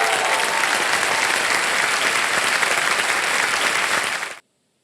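Studio audience applause on a TV quiz show, a thick, loud, sustained roar of clapping that cuts off abruptly into silence near the end.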